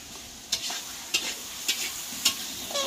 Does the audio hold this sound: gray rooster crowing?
no